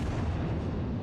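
A deep, heavy boom from a Yamato-class battleship's main guns in World of Warships, a single sustained low rumble filling the whole moment, loud and close with no voices over it.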